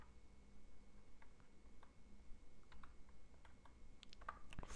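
Code being typed on a computer keyboard, faint, irregular keystroke clicks spread across the whole stretch, with a small cluster of louder clicks near the end.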